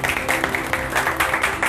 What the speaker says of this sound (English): let's give a huge round of applause for Mr. Ravi.